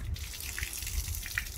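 Clothes being rinsed by hand in water near a compact Praxis Petit mini washing machine, soft quiet sloshing with small splashes and drips, faint and close.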